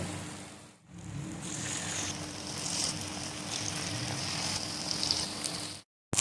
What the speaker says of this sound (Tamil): மசாலில் கொஞ்சம் இப்படி டிப் பண்ணிவிட்டு நம்ம ஆயிலில் போட்டு பொரிச்சு எடுத்துடலாம்